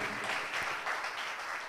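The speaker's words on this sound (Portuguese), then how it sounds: "A igreja pode receber com uma forte salva de palmas essas pessoas tão amadas" A church congregation applauds in a steady, moderately faint wash of clapping that lasts a couple of seconds without pause.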